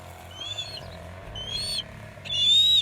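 A small bird gives three thin, high whistled calls, each brief and spaced apart, fairly close against a quiet low hum.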